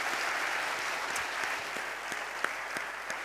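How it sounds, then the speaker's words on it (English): Steady audience applause fills a hall at a science-communication competition final, a dense wash of many hands clapping with a few sharper individual claps standing out, continuous and even throughout. "let's keep the applause going"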